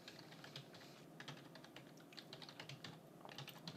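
Steady, close typing on a computer keyboard while entering a username during account setup, quick light key clicks in irregular bursts with no talking.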